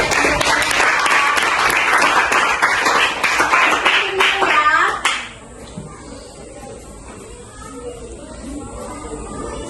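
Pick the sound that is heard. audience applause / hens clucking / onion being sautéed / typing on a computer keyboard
audience applause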